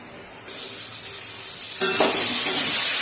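Bata fish curry being stirred in an open pan, a steady broadband hiss of simmering and scraping that grows louder and denser partway through, with no voices.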